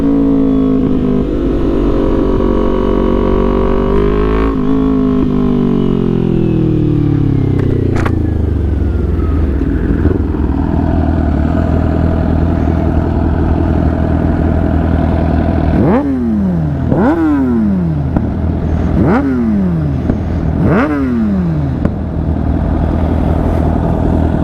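A loud sport motorcycle engine, a Suzuki GSX-R750 or Kawasaki ZX-10R, revs and winds down, then several sharp throttle blips in quick succession, each followed by crackling pops from an exhaust shooting flames.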